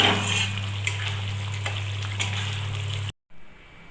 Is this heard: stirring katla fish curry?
yes